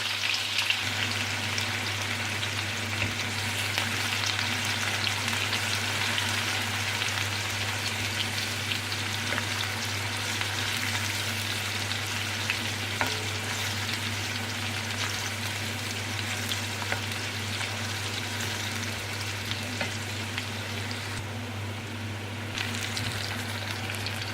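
Onions frying in oil in a pan for a mixed vegetable dish, a steady, dense sizzle like light rain that runs continuously at an even level with a low hum beneath and no talking.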